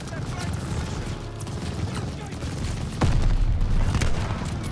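Gunfire in Call of Duty: Vanguard during a desert battle at Tobruk, dense rapid bursts and booms layered with battle noise, rising louder in the second half.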